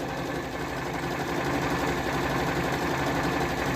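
A Janome 9000 sewing machine runs a simple straight stitch, giving a steady, continuous mechanical whir with a fast, even rhythm that stays loud and close for the whole stretch, with no talking.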